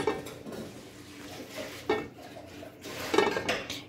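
Rice being stirred with oil in a pan, with a few scattered scrapes and light clinks of utensil against metal at irregular intervals, close and moderately quiet.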